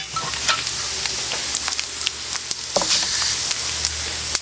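Salt pork frying in fat in a pan while preparing rappie pie, a steady close sizzle and crackle with occasional sharp pops and a light stirring scrape, no voices.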